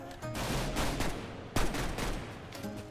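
Gunfire in the Minecraft MineStrike minigame, fairly faint but steady bursts of rapid shots with a sharper crack midway, heard without speech.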